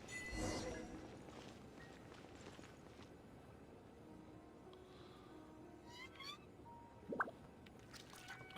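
Cat meowing in the video game Genshin Impact, a short faint meow near the end among quiet footsteps and ambient game sounds.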